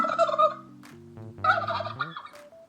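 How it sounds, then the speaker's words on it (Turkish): A turkey gobbling in two rapid, warbling bursts, close and clear, with a brief pause between them. "Bu bir hindi."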